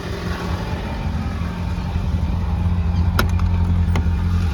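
The engine of a green 1972 Saab 99 runs steadily in London, a continuous low rumble heard from close by, with a couple of brief clicks near the end and no voices.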